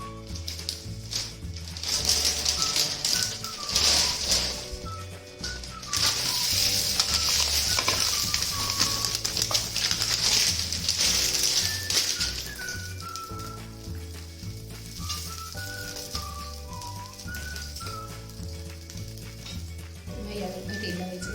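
Sabudana thalipeeth fries in ghee on a pan, a bright steady sizzle that swells and eases, with faint scraping of a utensil and a soft voice now and then under it.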